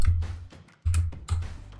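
Keystrokes on a computer keyboard entering commands in a Linux terminal text editor, a few separate bursts of clicking taps, close and fairly loud, with no talk over them.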